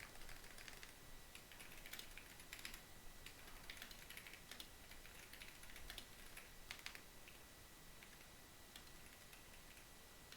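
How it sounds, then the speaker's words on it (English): Quiet, irregular bursts of keystrokes on a computer keyboard while someone types into a chat, faint and slightly distant over a low hiss, with short pauses between flurries. "I'm typing in the chat."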